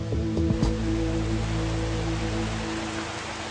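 Steady rain falling in the mountains, a dense, even hiss of drops holding at moderate loudness throughout with a few brief thumps near the start and no voices.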